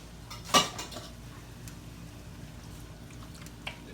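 A spoon scrapes and clinks once against a pot of pasta sauce made with canned diced tomatoes and tomato sauce, followed by a faint simmer and a small tap near the end, close but quiet.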